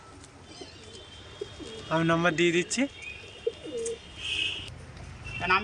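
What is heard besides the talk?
pigeons cooing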